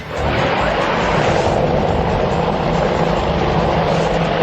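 An Indian Light Combat Helicopter (LCH) in flight, its rotor and turbine roar loud, steady and continuous throughout with no voices.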